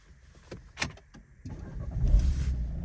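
A 2015 Renault Megane diesel car engine starts after a few faint clicks, then settles into a steady, fairly loud low rumble that builds and holds near the microphone.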